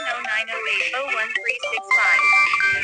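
A mobile phone ringtone plays at a Holi festival gathering in Karnataka, a bright melodic tune with steady tones in the second half, following a stretch of people talking and singing.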